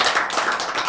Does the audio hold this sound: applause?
yes